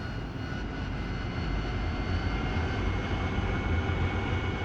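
Aircraft engine in the DCS World flight game humming steadily while taxiing to the runway, a dense continuous drone with a constant tone that grows slightly louder over the stretch.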